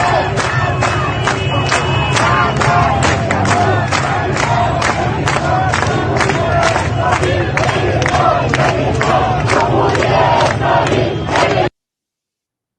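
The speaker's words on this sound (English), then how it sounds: "This may be another just cheering crowd" A large crowd in Iran cheers and shouts loudly and continuously, with rhythmic sharp claps or chants punctuating the roar throughout.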